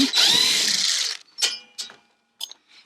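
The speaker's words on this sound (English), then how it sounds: "I want to take out the 2x, so we have 2 screws holding them in." A power drill backs screws out of 2x lumber on a roundhouse build, a long whining run followed by three short bursts, close and loud with no talking.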